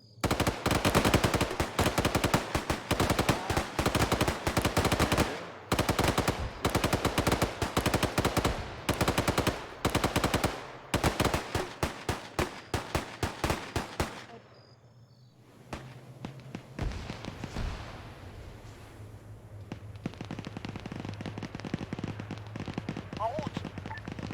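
Rapid automatic gunfire in the military video game ArmA 3, dense loud bursts for about fourteen seconds, then a pause and sparser distant shots over a low engine rumble, with voices talking over the radio.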